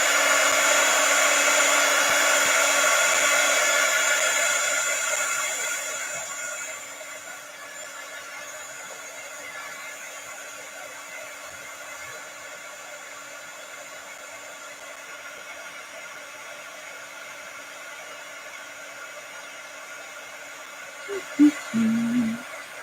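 A heat tool blows loudly at first, melting craft coating for a distressed finish, then fades to a steady softer hiss with a few brief knocks near the end; no speech.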